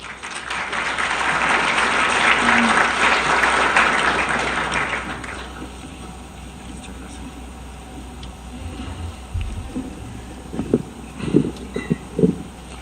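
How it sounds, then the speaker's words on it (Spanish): Seminar audience applauding, a broad wash of clapping that swells for several seconds and then tapers off, followed by scattered knocks and shuffling. "Les pido un fuerte aplauso, por favor."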